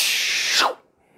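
A voice imitates a science-fiction teleport effect: a bright hissing whoosh held steady, then sweeping downward and cutting off abruptly, loud and close, alone.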